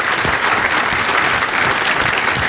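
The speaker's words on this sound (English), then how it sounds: "So everybody, I'd like to give a round of applause to Gil Wilson." An audience at a rail conference applauds steadily and densely for the whole stretch, with no voices on top.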